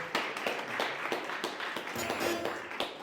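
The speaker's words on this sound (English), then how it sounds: "Let's give in a good round of applause." A crowd at a hackathon pitch event applauds, a dense, even round of clapping from many people held at a moderate level for the whole stretch, with individual sharp claps standing out near the front.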